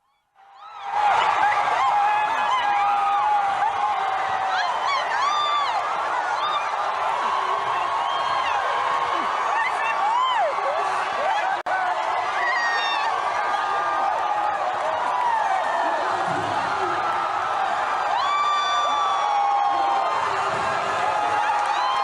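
A crowd in New York City cheers and whoops continuously, with many voices, shrieks and laughter piled into a loud, sustained roar from a played-back recording.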